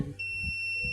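Continuity tester buzzer gives a steady, high electronic beep, close and fairly quiet, while probing the thermal fuse of an Imarflex rice cooker, with faint low handling noise underneath.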